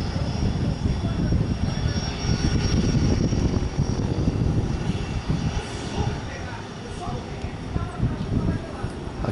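A Dassault Falcon 50EX jet taxis or runs up on a Tuesday afternoon, its engine roar steady and fairly loud throughout with broad rumble, while people talk nearby over it.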